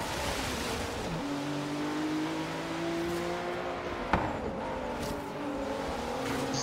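GTR race car engine in the Forza racing game, a steady droning whine that shifts pitch as the car accelerates, with a brief sharp knock partway through, continuous and fairly close.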